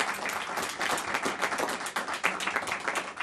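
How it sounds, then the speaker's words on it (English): Applause at a Senate Democrats press briefing on Medicare and Medicaid cuts: a modest crowd claps steadily and fairly quietly at medium distance, with no voices over it. "Let's have a round of applause for them."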